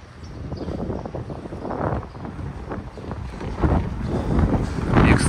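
Gusting wind rushes through a mountain gorge at the Rosa Khutor resort, a continuous low roar that swells and eases, growing heavier toward the end with no voices over it.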